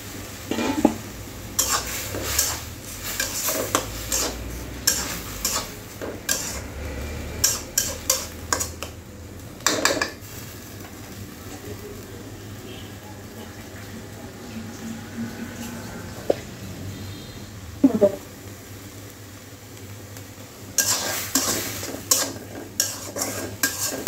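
Greens and shrimp cooked Bangladeshi style are stirred in a pot, with bursts of utensil scraping and clatter separated by pauses, over a faint low sizzle.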